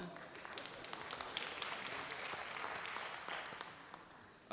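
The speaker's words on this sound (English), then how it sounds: "go ahead, you can applaud" Convention audience applauds after a resolution vote, a moderate, fairly distant patter of many hands that swells, holds steady, then tapers off near the end.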